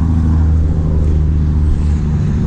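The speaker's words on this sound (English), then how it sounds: "I'm by the highway, so yeah, excuse the sound" Steady highway traffic roars nearby, a dense continuous wash of passing cars and road rumble with no pauses, loud and close.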